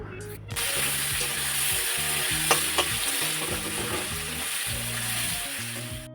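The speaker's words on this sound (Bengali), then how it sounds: "এখন দিয়ে দিলাম টমেটো আর পেঁয়াজ এটাকে একটু লাল লাল করে ভাজা করে নিয়ে" Tomato and onion frying in a pan for a jackfruit and prawn curry, a loud continuous sizzle close by, with a few clicks and scraping stirs over a low repeating hum.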